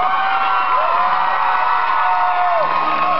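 A concert crowd at a show in Edmonton cheers and whoops for an encore, a dense sustained roar with high shouts rising above it.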